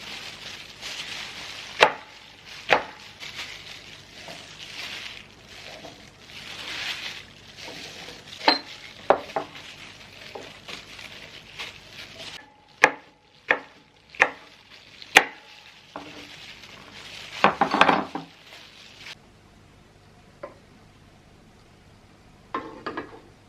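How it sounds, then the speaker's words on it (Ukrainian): A knife slices peppers into rings on a board in sharp, separate chops with irregular pauses between them, over a quiet background hiss. "нарізаю приблизно по одному сантиметру товщина. Ось такі кільця."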